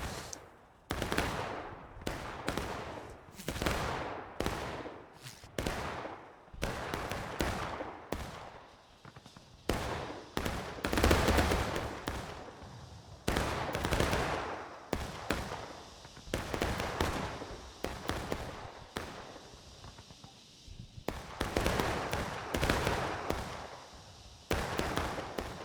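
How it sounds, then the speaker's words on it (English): Heavy musket and rifle fire from both sides of a large War of Rights battle on the Hilltop/Contention map, with 300 players, rolls on as dense, overlapping cracks and volleys that never let up. "Both sides taking heavy fire."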